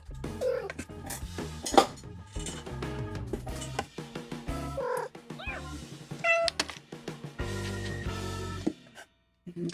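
A cat meows repeatedly indoors during a Real Grade Wing Gundam model kit build, with close, insistent cries and chirps scattered across the stretch, mixed with small tapping and handling sounds.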